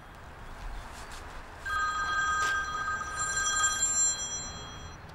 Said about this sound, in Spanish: Maldito teléfono.